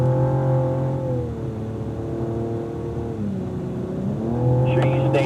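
A Cadillac race car accelerates at over 100 mph around the Auto Club Speedway oval, its engine holding a steady high drone that dips and climbs again, under an in-car voice.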